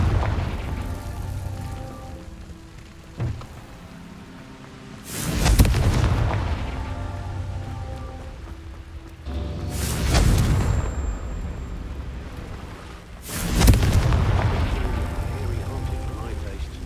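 Confringo blast spell explosions from a Harry Potter video game: three loud, broad booming bursts spaced a few seconds apart, each trailing off over a low rumble, with voices calling out spells between them.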